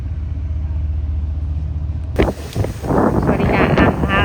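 Patrol boat T.998 underway at sea near Prachuap port, with steady low engine and wind rumble buffeting the microphone, then louder bursts of wind and water splashing as the hull rides the waves.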